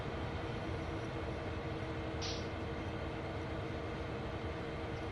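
A long train rolling in the Train Sim World video game, a steady low rumble of wheels and wagons droning on evenly throughout, with a short hiss partway through.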